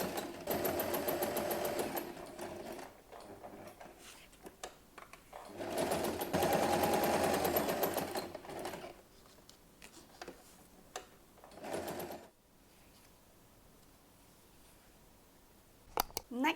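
A home sewing machine basts a fabric front pocket and cover flap onto a pouch, running in loud, close bursts of rapid stitching separated by pauses and a few clicks.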